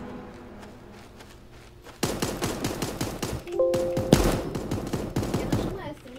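Rapid bursts of automatic gunfire ring out in the video game Super Animal Royale, a quieter stretch then loud repeated volleys from about two seconds on, with a voice speaking briefly amid the shots.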